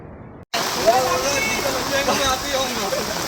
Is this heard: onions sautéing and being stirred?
no